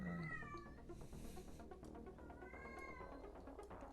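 A cat meows several times in drawn-out, wavering cries over a steady background hum, close by but fairly quiet.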